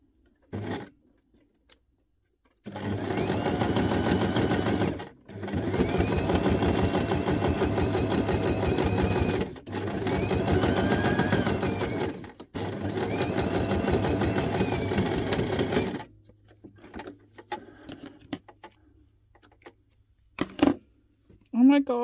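A sewing machine runs a straight stitch through teeny tiny paper scraps, whirring steadily in several long bursts with short pauses between them, close and fairly loud, followed by a few soft handling clicks.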